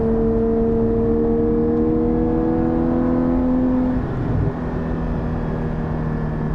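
A Porsche 718 GT4 fitted with a Soul Performance race exhaust drones steadily with sustained engine tones, loud and close, and shifts in pitch about two-thirds of the way through.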